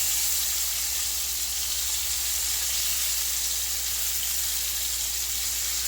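Cajun pork chops sizzle steadily in a hot pan after being flipped, a continuous loud crackling hiss with no talk.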